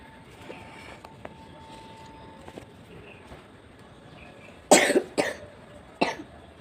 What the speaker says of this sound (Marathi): तर खोकला पण झाला आहे तिला